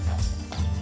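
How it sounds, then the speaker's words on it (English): Heavy horses, Suffolk Punches, Shires and Clydesdales, walking around a yard at a heavy horse centre in Dorset, a couple of dull hoof clops under loud low rumbling noise. "The rhythmic clip-clopping of majestic Suffolk punches, Shires and Clydesdales resonate around the yard"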